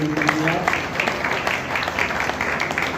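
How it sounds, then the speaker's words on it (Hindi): An audience at a devotional gathering applauds a team of women, dense and steady clapping from a crowd that runs throughout, fairly loud and even with no pause. "एक बार इनके लिए जोरदार तालियां बजाइए"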